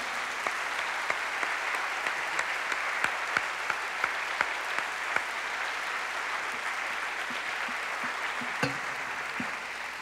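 A church congregation at a sermon breaks into steady applause, a continuous wash of many hands clapping that holds at an even, moderate level throughout.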